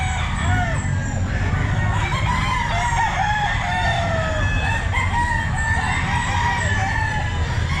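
Roosters, including ball stags and kelso gamefowl, crow repeatedly at a pet market, the calls close and overlapping with clucking in between.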